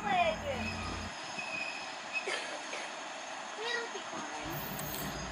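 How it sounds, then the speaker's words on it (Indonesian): A sugar cane train hauling empty lorries rolls past nearby with a steady rumble, high metallic wheel squeals and clanking, while voices talk faintly in the background. "ketika kereta tebu ini lewat."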